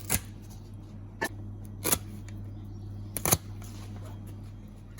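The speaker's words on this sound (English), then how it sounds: "just get yourself a pair of garden secateurs and just cut the feet off" Garden secateurs snip the feet off a butchered meat chicken: about five sharp, close cuts spaced a second or so apart over a low steady hum, with no speech.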